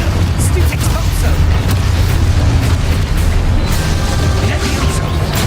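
An explosive Confringo spell blast from a Harry Potter video game: a loud, dense, rumbling boom that roars continuously for several seconds with crackling bursts layered on top.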